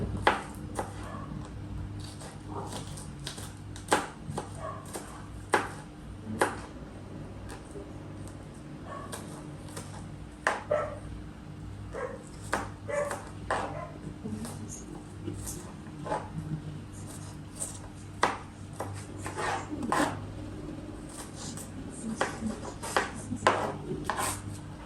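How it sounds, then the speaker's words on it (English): A knife chops pepper on a board in a home kitchen, a steady scatter of light, sharp taps repeated irregularly throughout, fairly close and quiet over a low background hum. "I'm cutting up my pepper."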